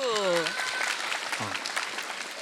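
A studio audience at a televised Korean talk show claps steadily at moderate volume, with voices calling out over the applause at the start.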